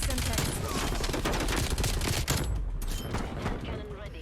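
Rapid, dense gunfire in a first-person shooter game, rattling bursts like a machine gun with a few heavier booms, loud and close, tapering off toward the end.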